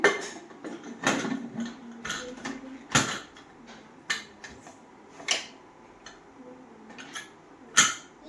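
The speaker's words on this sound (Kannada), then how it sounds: "ಕುಕ್ಕರ್ ಲಾಕ್ ಮಾಡ್ಬಿಡ್ತೀನಿ" A pressure cooker lid is twisted and locked shut while a Kannada-style mutton curry cooks, giving a run of sharp metallic clanks and clicks spread across the stretch, close by and fairly loud against a quiet kitchen.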